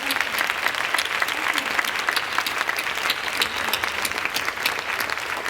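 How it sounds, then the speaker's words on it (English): A conference plenary audience claps for themselves after taking a bow, a dense, steady wash of many hands that stays loud and close for the whole stretch with no speech over it. "Take a big bow and clap for yourself."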